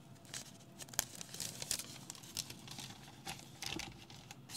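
A paper coffee filter for a Clever brewer is handled up close, giving soft crinkling and papery taps in irregular bursts at low volume.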